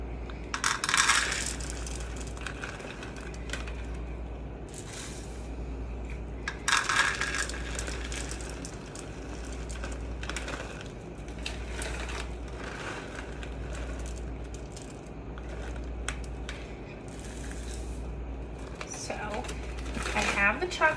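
Mini chocolate morsels, about one and a half cups, rattle and patter as they are poured into banana bread batter in a bowl, coming in close bursts with a low steady hum underneath.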